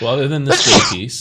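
A single sharp sneeze bursts out in the middle of a panel discussion on FedRAMP Rev 5, landing right between stretches of a man's speech.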